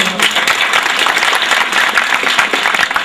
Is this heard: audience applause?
yes